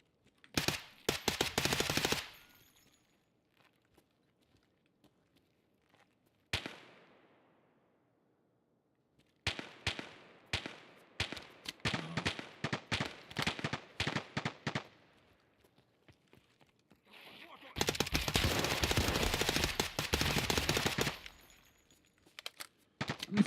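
Gunfire in the video game Escape From Tarkov: loud bursts of automatic fire and rapid single shots in several separated volleys, with quiet gaps between them and a long sustained burst near the end.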